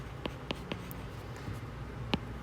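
Marker or chalk strokes on a board during a lesson on graphing logarithmic functions, a few short separate scratches spaced irregularly, fairly faint over a quiet room hum, with no talking.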